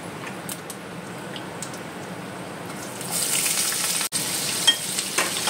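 Chopped onion added to hot oil in a pan while cooking Kashmiri chicken masala: a steady, close sizzle that swells louder partway through as the onion hits the oil, with a brief break and light crackling afterwards.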